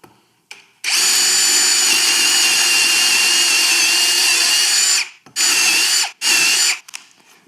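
A Ryobi cordless brushless drill with a 4 amp battery whirs loudly at full speed for about four seconds, then runs in two shorter bursts before falling quiet.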